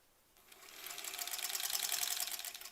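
A sewing machine stitches rows of a quilt block, starting up and running in a fast, steady rhythmic whir of needle strikes that builds and stays close, with no talking.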